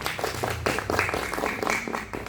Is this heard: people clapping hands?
yes